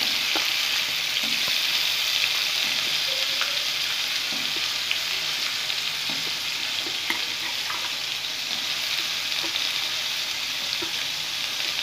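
Small diced potato, carrot and beans fry for upma in a steady, loud, close sizzle that carries on without a break, with occasional faint stirring taps and no speech.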